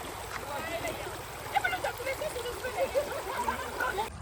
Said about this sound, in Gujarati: તો આ નદીનું આવતું પાણી છે